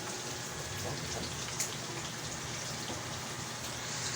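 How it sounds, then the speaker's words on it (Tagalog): Steady heavy rain pours down in a dense, even hiss, continuous throughout with no voices. "Malakas ang ulan ngayon mga ka-idol."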